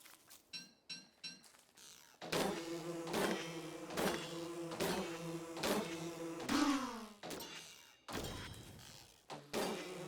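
Angry bees swarm out of a struck beehive in Don't Starve, a pulsing buzzing drone in repeated loud bursts with short thumps, close and continuous with no talking.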